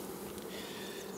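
Honeybees from a strong colony hum steadily around an opened hive, a dense close buzzing that fills the whole moment with no voices over it.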